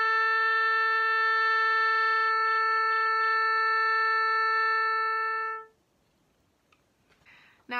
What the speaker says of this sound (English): you should listen out for the sound of a concert A, which is how an orchestra tunes